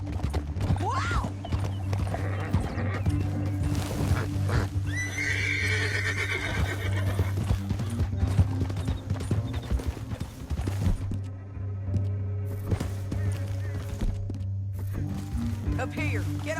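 Horse hooves clip-clopping and a horse neighing in the Red Dead Redemption 2 video game, rhythmic close hoofbeats with whinnies and tack noise over a constant low rumble, with voices talking over parts of it.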